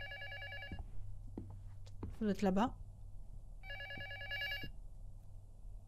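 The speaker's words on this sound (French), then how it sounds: "Il est où le téléphone?" An old-style telephone bell rings in bursts in the horror video game Luto, two loud rings separated by a pause, with someone speaking between them.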